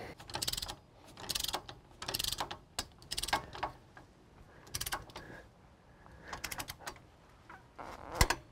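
A ratchet tightens a tie rod end onto the knuckle of a Jeep Wrangler in bursts of quick clicking separated by short pauses, with small metallic taps in between.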